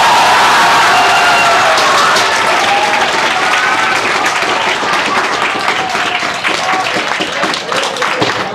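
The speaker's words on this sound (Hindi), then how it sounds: "इसलिए जोरदार ताली बजाओ एक बार।" A large audience applauds loudly for several seconds after a call to cheer a JEE Main topper at a coaching event, dense steady clapping with some cheering mixed in.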